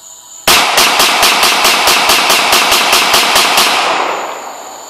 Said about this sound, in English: Shoot as fast as I can, it's not for accuracy.